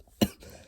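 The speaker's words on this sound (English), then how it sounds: "Hopefully I'm not coughing and sniffing around as much then" A single short, sharp cough bursts out close to the microphone, followed by quiet room tone.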